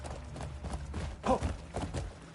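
Horse hooves in the video game Crimson Desert, a few soft, muffled clops at an uneven pace, faint and close, with no voices over them.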